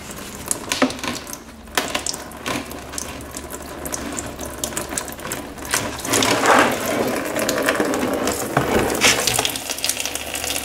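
A ratchet clicks steadily as a fastener is loosened on a 2000 Yamaha YZF R6 during a coolant change, the metallic ratcheting close and continuous over a background hiss.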